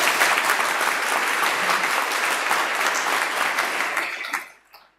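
Audience at an awards ceremony clapping for a recipient as names are read, a dense, loud wave of applause that runs steadily before fading out near the end.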